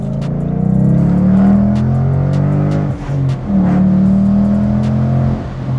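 Ford Mustang V8 engine in the racing game Need for Speed Underground, a loud sustained engine drone with steady harmonic tones that dip briefly mid-run, then rise again as the car accelerates, heard alone without talk.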